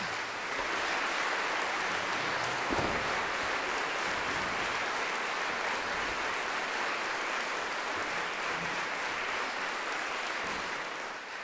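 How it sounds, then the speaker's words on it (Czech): Sustained applause from a concert audience at a student music school recital, steady dense clapping filling the whole stretch without pause. "Tak velký potlesk pro všechny, kteří dneska koncert nachystali."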